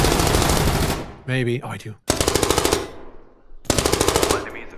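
A MAC-10 fires in rapid bursts in a multiplayer video game: loud, close automatic fire in three long strings with short gaps, while players talk briefly between bursts.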